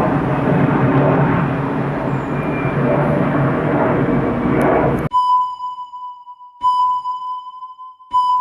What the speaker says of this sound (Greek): Περνάει και αεροπλάνο, περνάει.